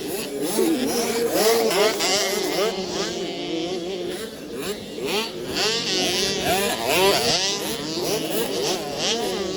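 Small 65cc motocross motorcycles race in a Motor Ace Motocross Series final heat, several high-pitched two-stroke engines whining and revving up and down at mid distance, with a commentator talking over them.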